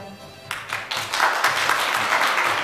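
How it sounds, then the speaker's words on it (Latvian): An audience at a children's singing show breaks into applause after a quieter moment, steady dense clapping building quickly and continuing throughout. "Aplausi!"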